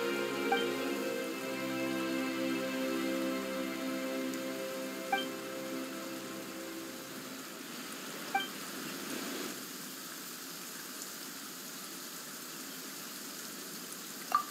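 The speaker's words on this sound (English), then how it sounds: "Why is it raining all of a sudden?" Rain falls in the Genshin Impact game world as a steady soft hiss of drops under a fading musical score, with a few sharp isolated tick-like hits standing out toward the end.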